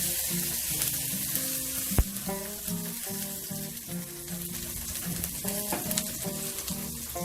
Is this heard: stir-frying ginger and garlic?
yes